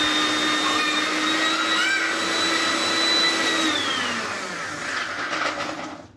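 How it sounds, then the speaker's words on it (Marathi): A kitchen mixer grinder whirs loudly while blending boiled beetroot for soup, a continuous high-pitched motor whine that slowly drops in pitch and then winds down at the end. "थोडं थोडं जे आहे मिक्सरला फिरवून घेते आहे हे मी"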